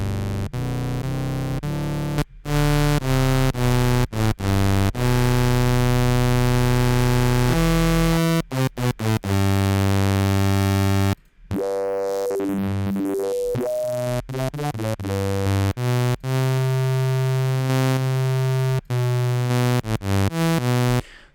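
A kHs One synth run through its shaper section plays a loud, buzzy, harmonically rich sequence of sustained notes and rapid stepped phrases, with brief dropouts and one noisy, swirling passage in the middle.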